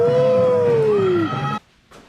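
A 1986 Mazda B2000 minitruck engine catches and runs loud and steady for about a second and a half with a falling whine, then cuts out abruptly, leaving near quiet.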